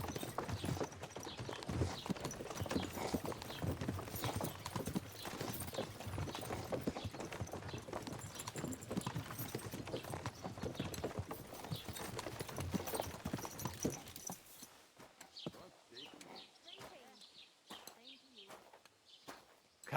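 Horse hooves clip-clop at a steady walking pace on a road in Kingdom Come Deliverance II, with speech and a bustling background for most of the stretch before the scene quiets and birds chirp over the continuing hoofbeats.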